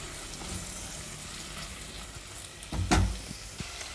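Two slit green chillies dropped into oil with frying onions, a continuous moderate sizzle with a sharp burst of spattering crackle as they hit the pan, then settling back to steady frying.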